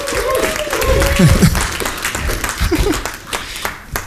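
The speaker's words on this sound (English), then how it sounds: "Big applause" An audience at a startup talk applauds as a speaker is introduced: steady, fairly close clapping with a voice talking over it.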